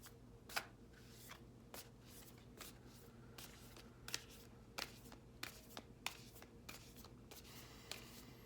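Oracle cards shuffled by hand at close range, a soft steady riffling with a run of crisp snaps and flicks, quiet and alone with no voices.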